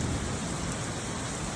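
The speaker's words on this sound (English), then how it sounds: "Gotta love thunderstorms." Heavy thunderstorm rain pouring down steadily with low thunder rumbling underneath, a dense, constant roar close by without pause.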